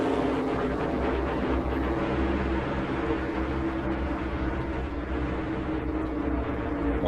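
Indianapolis race cars circling the track in a pack of about fifty, a steady distant engine roar and drone that holds without a break throughout.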